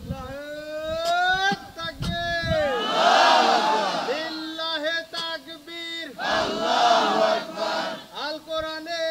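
A large crowd at an outdoor Islamic religious gathering chanting takbir in unison, two loud roaring call-and-response shouts rising after a lead voice, echoing widely across the open space.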